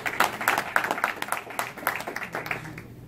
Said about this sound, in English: Big round of applause for Gabriel Rosado.